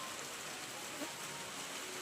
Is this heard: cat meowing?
no